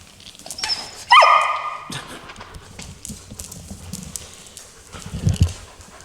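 A puppy gives a few short yelps and barks amid garage clatter, with one sharp loud bang partway through and scattered thumps afterward; no talking is heard.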